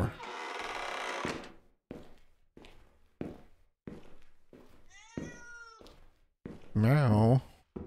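A cat in the video game Akai Onna meows repeatedly in short, separate calls, then gives a louder drawn-out wavering yowl near the end, with a burst of broadband noise at the start.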